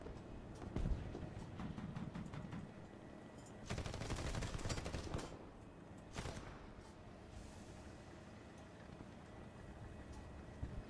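Machine gun fire in War Thunder, a few rapid bursts of gunfire rattling over a constant engine rumble, fairly faint against the background.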